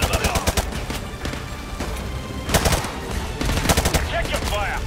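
Bursts of rapid automatic gunfire and single sharp shots in the Call of Duty Modern Warfare 2 campaign, loud and close, repeating in clusters with brief gaps and shouted voices mixed in.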